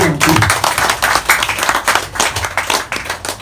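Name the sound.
audience clapping hands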